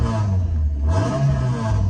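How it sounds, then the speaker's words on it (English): A 2009 Suzuki Swift Sport's exhaust revs up loudly and close by, with its engine note rising and settling in a short burst and no talk over it. "have a little listen to the exhaust tone."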